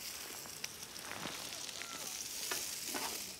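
Onions with grated carrot and grated chayote fry in a pan, producing a soft, continuous sizzle with faint crackles and occasional stirring scrapes.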